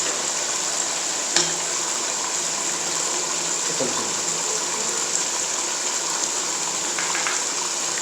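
Cream and milk mixture being poured into a simmering chicken curry on medium flame, a soft steady liquid gush and trickle with faint clinks, no talking.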